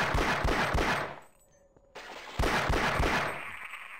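Pistol fire in Half-Life aimed at a Vortigaunt: a rapid burst of sharp shots, a short pause, then another quick volley, loud and close with no talk.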